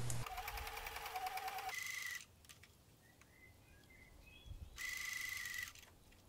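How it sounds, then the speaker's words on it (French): A domestic sewing machine topstitches a knit tee shirt 8 mm from the edge, running in two steady whirring bursts separated by a quieter pause with light handling sounds, close and alone. "on va venir faire une surpiqûre à 8 mm du bord."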